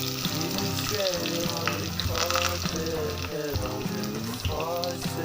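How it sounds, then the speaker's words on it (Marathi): Crushed garlic paste and curry leaves frying in hot oil for a tempering, a loud continuous sizzle and crackle heard close up with no one talking. "त्यानंतर त्यात मी लसण पेस्ट टाकते जे कुटून घेतलं आहे मी ते त्यात कढीपत्ता टाकते"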